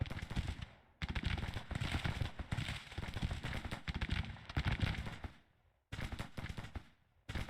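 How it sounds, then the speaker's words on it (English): Rapid volleys of musket fire from troops in a Civil War-era strategy game battle crackle in dense bursts, broken by brief gaps, with no talk over them. "I might as well get you up a little bit here so you can start shooting."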